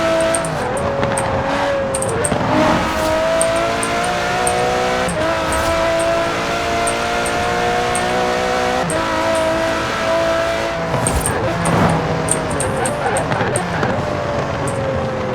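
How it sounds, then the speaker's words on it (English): A car engine in Forza Horizon 4 on an open road, droning steadily and loudly at high revs with small pitch shifts as gears change, some faint clicking game sounds above it throughout. "This car is just a joy to drive on the open road."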